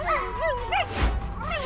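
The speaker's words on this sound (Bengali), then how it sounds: "কুকুরটা চিৎকার করতে থাকে তখন।" A cartoon dog named Bhulu yelps after being beaten, letting out several close, loud, rising-and-falling whimpering yelps in quick succession with a dull thump in the middle.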